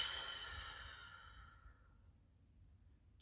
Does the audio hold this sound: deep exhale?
yes